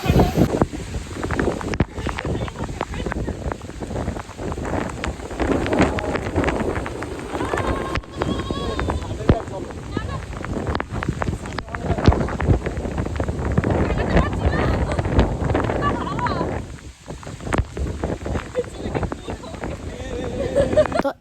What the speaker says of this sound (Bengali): এত জোরে হাওয়া হচ্ছিল আর ঝড় হচ্ছিল